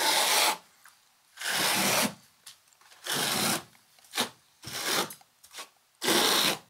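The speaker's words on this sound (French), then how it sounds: "Le talocher avec une taloche plastique" Render smoothed with a plastic float on an external wall insulation system. Six broad scraping sweeps come in bursts of about a second, separated by short pauses and a couple of lighter scrapes, close and clear with no talk.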